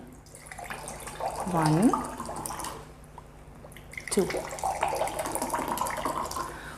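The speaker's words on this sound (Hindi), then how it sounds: "2 में हम ले रहे हैं घर का आरओ का पानी" Household RO water poured into two glasses, a splashing pour rising in pitch, then a second pour, close by with speech over it.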